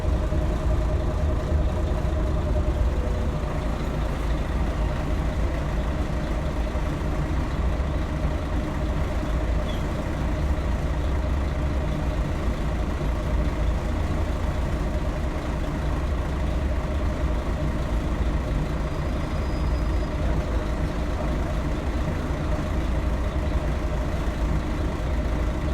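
An old Scania L113CRL bus with Ansair Orana bodywork idles at a Sydney depot, giving a steady, continuous low diesel rumble that stays even for the whole stretch with no talking.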